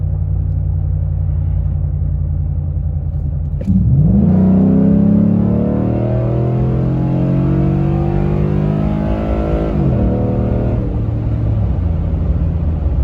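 A Ford F-150 with the 5.0 engine and an OZ Tuning tune pulls hard from a steady cruise. The engine note climbs loud and close, then drops smoothly through an upshift and settles back to a low rumble.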